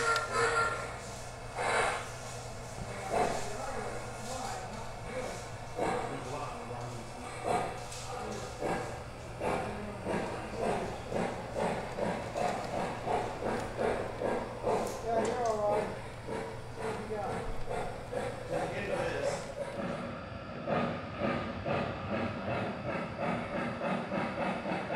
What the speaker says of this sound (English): Let's go ahead and take it for a spin around the layout.